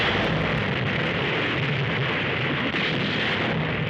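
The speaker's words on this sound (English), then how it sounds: "The powerful 16 and 14-inch guns of these Japanese dreadnoughts were leveled against the light batteries of our escort vessels" Heavy 16- and 14-inch guns of Japanese battleships fire on light escort vessels during a WWII Pacific naval battle, a loud, continuous roaring barrage of blasts and rumble that never lets up.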